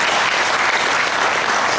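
Audience clapping at an indoor Guru Puja and Guru Yoga teaching session, a loud, dense, even burst of many hands applauding throughout, with no speech over it.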